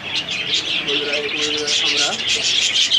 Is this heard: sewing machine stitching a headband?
no